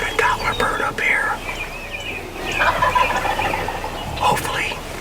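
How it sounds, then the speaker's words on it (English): Wild turkey gobbles at a roost in the woods, sounding from a little distance over faint rustling. Several short rattling gobbles come in bursts across the span. "We still got a deep-throated gobbler bird up here."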